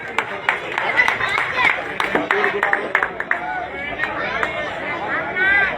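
Scattered, uneven clapping from a crowd at a local election gathering welcoming a Bharatiya Janata Party ward candidate, with chatter and voices mixed in throughout and the claps rising and thinning irregularly.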